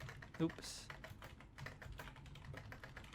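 Computer keyboard typing while entering code, with rapid uneven key clicks running under a man's ongoing speech, quiet and close.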